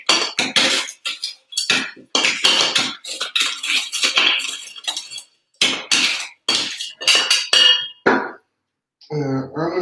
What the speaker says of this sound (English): So you really want to get those sugar cubes to break it up.